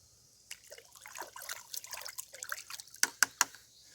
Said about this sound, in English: let me stir this up and get my pH pin in there